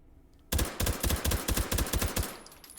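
An H&K MP5K fitted with a compensator fires on full auto in the shooting game H3VR, a sudden close rapid string of about a dozen sharp reports, then a brief ringing tail.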